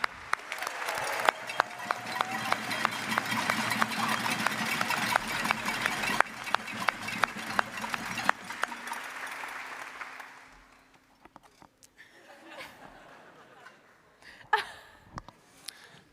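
A congress audience claps steadily for several seconds, then the applause fades away, leaving quiet room noise and a few scattered knocks.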